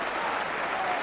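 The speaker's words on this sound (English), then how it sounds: "The crowd are applauding" Football stadium crowd applauding during a 1979 West Ham United versus Newcastle United match, a dense steady clapping wash heard briefly at a distance.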